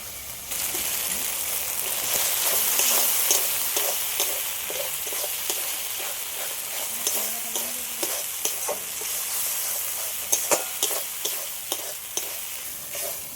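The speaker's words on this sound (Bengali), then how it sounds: "মশলাগুলো সব একসাথে ভালো করে একটু কষিয়ে নিয়েছি" Spices with raisins and yogurt sizzle in a pan for rui fish kalia. The sizzling is steady and close, broken by repeated scraping taps of a stirring spoon.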